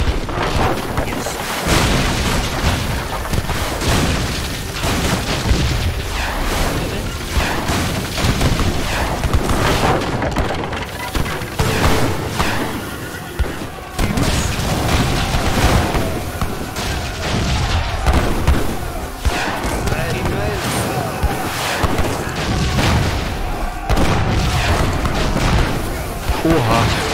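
Cannon fire in Age of Empires III Definitive Edition: repeated heavy booms and crackling volleys roll through a dense battle din, with a voice talking over them.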